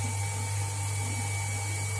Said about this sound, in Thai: ขอโทษนะคะเสียงปั๊มดัง